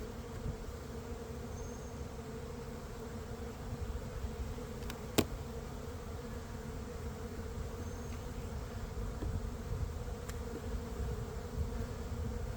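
Honeybees swarm in front of an open hive during a spring inspection, making a dense, steady drone close by with one brief sharp click partway through and no talk.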